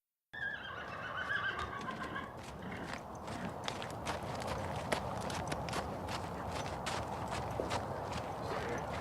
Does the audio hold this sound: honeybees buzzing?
no